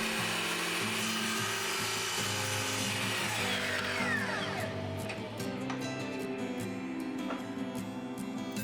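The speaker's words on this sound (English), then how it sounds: "And here I cut all the strips to equal size on the miter saw." A miter saw cuts wood strips to equal length: a loud, whining motor hum with a shifting pitch as the blade spins up and bites through the wood, continuous for several seconds.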